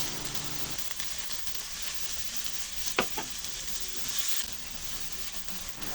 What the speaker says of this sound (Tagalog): Igisa at takpan muna siya for 3 minutes.